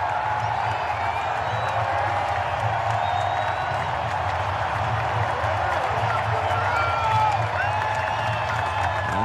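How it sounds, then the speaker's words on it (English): A big baseball stadium crowd at a Padres–Giants game roars and cheers steadily, everyone on their feet, a dense sustained wash of voices and applause that swells slightly near the end. "And the big crowd, everybody on their feet now, trying to spur on Doval to the big finish."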